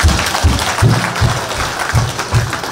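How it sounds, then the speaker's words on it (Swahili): A crowd at a gathering claps in a loose rhythmic beat, with heavy, evenly spaced bursts of hand claps under a constant murmur of noise. "Hebu tupige makofi"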